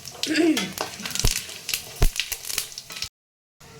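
Whole cumin, whole garam masala, dried red chillies and bay leaves are tempered in hot oil for a vegetarian taro dum curry. A crackling sizzle with sharp pops runs close and busy, a voice briefly murmurs early on, and it cuts to silence at the end.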